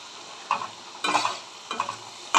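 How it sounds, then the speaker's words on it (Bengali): Tomato puree stirred into frying dry spices for restaurant-style paneer masala, a soft sizzling bed cut by three or four short scraping strokes of a spoon in the pan, close and without talk. "টমেটো পিউরেটা দিয়ে দিচ্ছি।"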